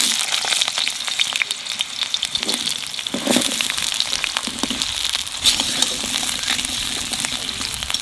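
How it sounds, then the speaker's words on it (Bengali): Cut potatoes fry in hot mustard oil for a cabbage and potato dish, a loud, dense, continuous sizzle close by with occasional stirring bumps and no talking. "সরষের তেল, আলু কাটা একটু লাল লাল করে ভেজে নেব"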